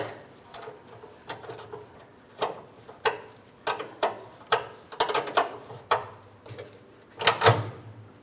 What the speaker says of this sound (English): For each of these brake lines, I'll be using my 11mm flare wrench.